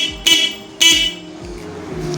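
A motorcycle horn gives two short loud honks as its button is pressed, followed by a fainter tone and steady engine hum.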